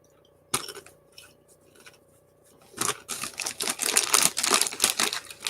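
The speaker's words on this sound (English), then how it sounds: "Yeah, crinkling crisps." A packet of crisps is crinkled close up, with a sharp initial rustle followed by a burst of dense, continuous crackling and scrunching as the bag is squeezed and handled.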